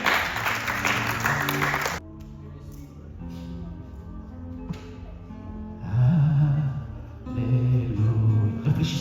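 A church congregation bursts into loud applause during a worship service. The dense clapping lasts about two seconds, then gives way to quieter music and voices.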